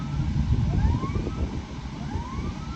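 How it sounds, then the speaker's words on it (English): A dam warning siren signals an increase in water flow, its rising wails sweeping up repeatedly at a distance beneath steady, loud broadband rumble, with no talking. "I don't know if you guys heard that siren or not."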